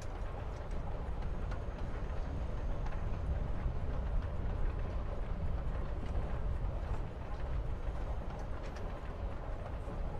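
Train ride ambience in the video game Life is Strange: Before the Storm, a steady rumbling rattle of rolling carriages continuing evenly throughout, moderately loud with no breaks.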